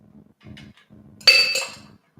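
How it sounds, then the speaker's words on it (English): Ice clinking into a mixer glass while a Gatorade margarita is mixed, a short burst of bright clattering as the cubes drop in, after some soft low handling sounds, close and clear. "Doesn't matter how much ice you put in the mixer glass"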